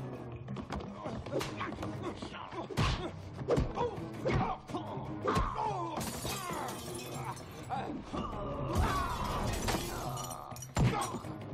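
A glass pane shatters in a kung fu movie scene, with bursts of breaking glass cutting through a dense, busy soundtrack of music and action noise.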